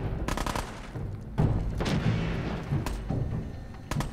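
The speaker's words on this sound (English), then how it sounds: "So who are they shooting at then?" Gunfire rattles in the Fallout 4 game: sharp shots arrive in clusters over a low, busy background, loud and fairly close, with no talking.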